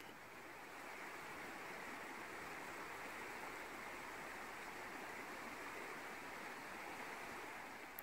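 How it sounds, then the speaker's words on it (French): Water flows gently down like a small cascade, a steady, even rushing hiss that holds without change throughout, soft and continuous with no other sounds. "L'eau ruisselle délicatement, le débit est plus lent."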